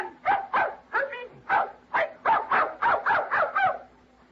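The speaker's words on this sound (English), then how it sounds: "That's a dog? It's canine." A dog barks in an old-time radio drama, a close, loud series of about eleven sharp barks in a steady, quick rhythm.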